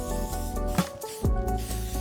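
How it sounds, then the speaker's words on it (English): Hairspray sprayed onto Hollywood waves, a soft, steady aerosol hiss running under background music, with a brief swooshing gesture partway through. "I'm going to spray that wave into place"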